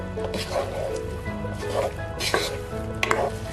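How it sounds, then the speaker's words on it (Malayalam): Chicken being stirred and mixed in a pan for chicken thoran, with scraping and clattering strokes in an uneven rhythm over a steady low kitchen background, close and moderately loud. "ഇതെല്ലാം കൂടി നന്നായിട്ട് അങ്ങ് ഇളക്കി യോജിപ്പിക്കാം"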